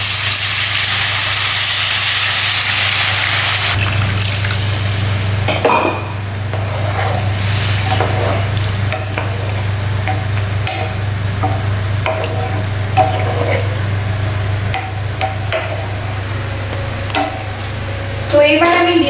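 Chicken curry cooks in a pan after broth is poured in, with a steady hiss of simmering under stirring scrapes and clinks, and a continuous low hum from a stove or fan running throughout.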